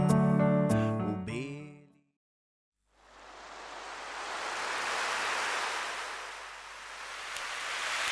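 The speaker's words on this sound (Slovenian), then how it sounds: "Modro morje valovi v ritmu oceana" Sea waves wash in with a soft, broad rushing hiss that swells and eases slowly, following a short snippet of music and a moment of silence.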